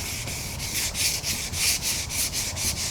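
Wet sanding of car door paint with a sanding block to remove orange peel, rhythmic back-and-forth rubbing strokes in a steady, regular pattern, close and fairly quiet, with no voice.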